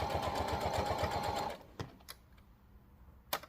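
Sewing machine stitching a fabric key fob in a rapid rhythmic chatter for about a second and a half, then stopping, followed by a few light clicks and taps.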